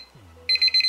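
A kitchen timer from AliExpress sounds a rapid series of about seven high, shrill electronic beeps, close and loud, after a brief quiet moment with a soft low hum.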